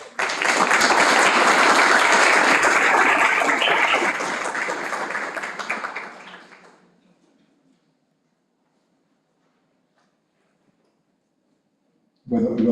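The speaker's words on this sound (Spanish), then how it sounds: "Por favor, lo recibimos con un fuerte aplauso." Loud applause from a university lecture audience welcoming a speaker to a panel discussion, sustained and dense for about six seconds before fading to silence, then a voice starts at the end.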